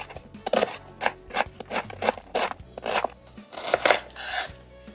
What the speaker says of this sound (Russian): Нарезаю лук маленьким кубиком.